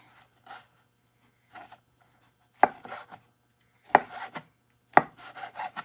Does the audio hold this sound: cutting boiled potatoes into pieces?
yes